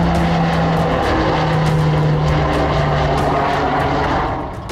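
A Polish L410 Turbolet twin-turboprop patrol aircraft in flight, a loud steady propeller drone with a low humming tone holding throughout, close and continuous with no talk.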